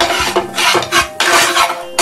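Pepper masala stirred in a pan with a spoon for an egg pepper roast, close scraping and rubbing strokes in a quick uneven rhythm, loud and with no talk.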